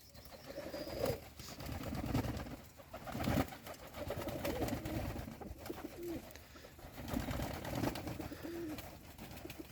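Pigeons coo softly in short repeated phrases around outdoor bird baths, beneath a steady wash of background noise with occasional faint wing flaps.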